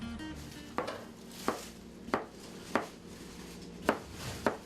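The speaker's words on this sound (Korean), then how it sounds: "칼질 소리를 따라 들어가는 곳 바로 재민 씨의 주방이다." Knife chopping food on a board in a small prep kitchen used for a food truck selling cheese steak, with six or so evenly spaced sharp chops over a low room hum.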